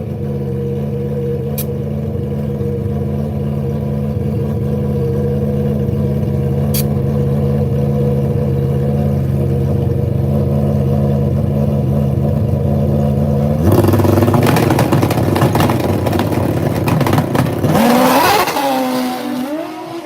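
A GSX-R nitrous drag bike idles loudly at a drag strip, then blips and roars into a hard burnout with gritty tire noise and a final rising rev near the end.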